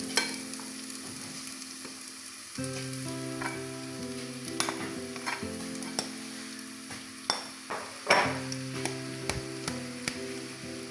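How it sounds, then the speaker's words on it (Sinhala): Steady sizzling of red onions frying in a hot pan until golden, with occasional louder crackles and a few clinks of a utensil stirring. "මේ එකතු කරගන්නේ රත ලුණු. මේ ටික හොඳට රන්වන් පාට වෙනකම් යොදගෙන"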